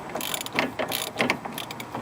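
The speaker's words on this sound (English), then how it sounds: "with all the bolts in place, we'll just tighten them down a little bit more" Quick metallic ratcheting clicks come in short bursts as a wrench tightens motor mount bolts on a car, close by and fairly quiet.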